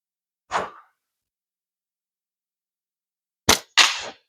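Slingshot practice against cans, a golf ball and a small plastic-tube target: one sharp crack, a long silence, then two quick impacts close together, loud and near.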